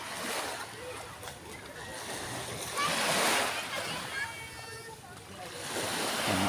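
Ocean waves splash against a shore where boats come and go, a steady washing surge that swells and recedes, with people talking over it.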